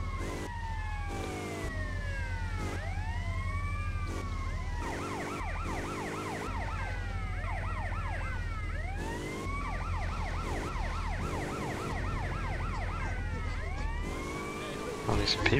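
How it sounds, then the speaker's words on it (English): Police car sirens in the PS2 game GTA Liberty City Stories wail in overlapping rising and falling sweeps, loud and continuous over a low engine drone. "Put our sirens on."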